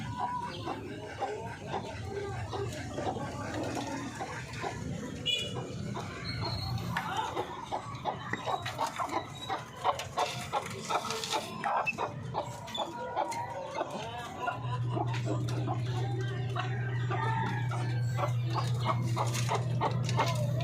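Paraoakan native chickens clucking and calling at feeding time on a Philippine farm, a busy steady flock chorus of overlapping clucks and crows, with a low steady hum joining in the second half.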